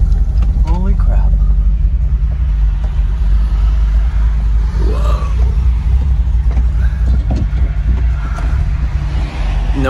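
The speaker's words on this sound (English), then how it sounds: "We're driving the car. The car is driving." A 1987 VW Vanagon Syncro Westfalia drives with a low, steady engine rumble and road noise heard from inside, while people talk over it.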